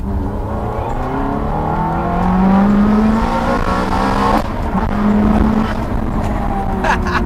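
A Ferrari F430 4.3-liter V8 engine revs up hard through second gear, rising in pitch with a throaty, sustained roar from inside the cabin, a brief shift midway.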